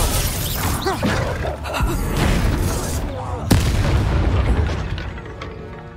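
Disarming spell cast during combat in the game Hogwarts Legacy, a loud magical blast with booming impacts and a sharp crack midway, layered over dense game effects and battle noise.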